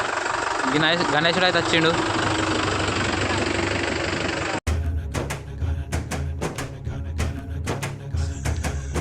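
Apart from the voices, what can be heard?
tractor reversing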